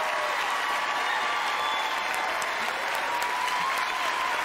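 Audience applause at MINECON, a dense, steady wash of clapping from a large live crowd that holds at full strength throughout without a break.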